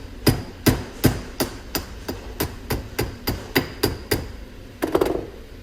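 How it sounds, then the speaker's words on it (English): A rubber mallet taps on the shaft of a BOSS machine fluid pump during a rebuild, about fifteen sharp, evenly paced knocks close by, with a slightly heavier pair of hits at the end. "Get your rubber mallet. Just tap that on there, get it started."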